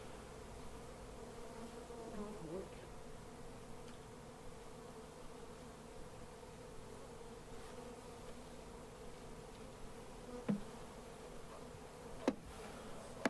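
Honey bees from a colony extracted out of a rotten tree, buzzing as they are tipped into a ten-frame hive, a steady continuous drone with a couple of sharp knocks near the end.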